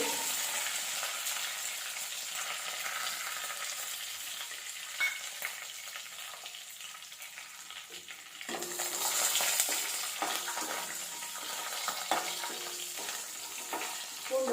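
Garlic cloves, curry leaves and broken dried red chillies sauté in hot oil for a brinjal curry, giving a steady, close sizzle that swells louder about halfway through, with occasional stirring scrapes and no talk.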